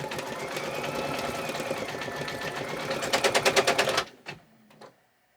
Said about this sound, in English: the embroidery machine's making noise